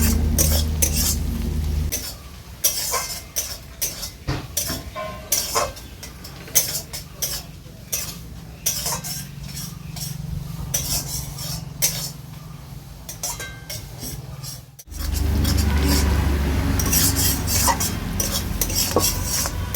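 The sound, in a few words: stirring onion and garlic frying in a pan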